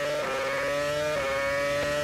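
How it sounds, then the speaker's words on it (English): A Renault Formula 1 car engine at the 2006 Australian Grand Prix holds a steady, moderately revved high-pitched drone with a strong tonal whine and slight pitch wobbles, running continuously and alone without talk. "They're not using a lot of revs in the Renault at the moment."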